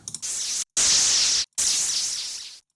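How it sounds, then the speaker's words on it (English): Distorted white noise from a synth in LMMS, played in three loud, hissing bursts with sharp cutoffs between them, the last one fading out. "White noise, distortion on a white noise, why not?"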